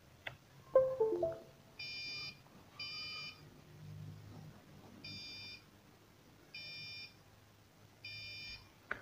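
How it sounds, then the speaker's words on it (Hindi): An Arduino-driven piezo buzzer beeps five times in short, evenly spaced bursts with pauses between, thin and high-pitched over faint background noise. "इस तरह ये बीप साउंड प्रोड्यूस हो रही है"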